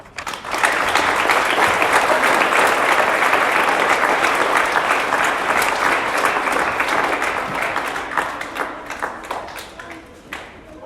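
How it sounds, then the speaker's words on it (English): Primary school audience at a presentation day claps for a newly named vice captain, sustained loud applause from many hands that swells quickly, holds for several seconds, then tapers into scattered claps. "Let's give them another round of applause."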